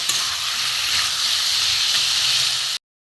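Masala curry sautés in a pan, giving a steady, close sizzle and hiss for nearly three seconds before stopping abruptly.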